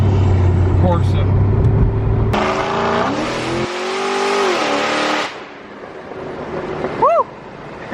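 A car fitted with a Corsa exhaust revs hard at a street racing meet, giving a loud, close, rising and falling engine roar that drops off sharply, with people talking and shouting around it.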